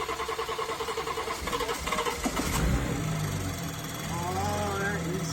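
A freshly built BMW M240i engine cranks and fires up mid-clip, settling into a rough, loud idle that rises in pitch, with people talking over the workshop noise.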